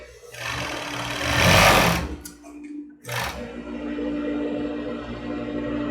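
A sewing machine stitches along the very edge of fabric for a cropped top, running in two bursts of fast, steady mechanical whirring with a short pause between them, close and without talk.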